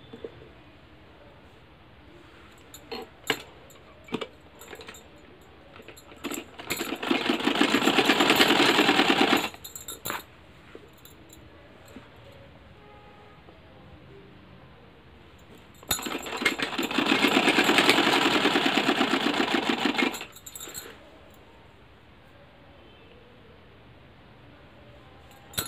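Sewing machine stitching a band onto the reverse side of a garment sleeve at home, running in two loud steady bursts of a few seconds each with quiet handling gaps between.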